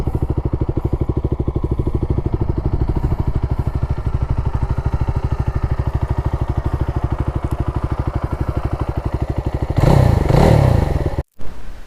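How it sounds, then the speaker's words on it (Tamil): A 2025 Jawa 42 Bobber motorcycle engine idles steadily with a rapid, even thumping pulse, then briefly revs louder near the end before cutting off abruptly. "நான் உங்களுக்கு வண்டி வந்து ஸ்டார்ட் பண்ணி காட்டிடுறேன்."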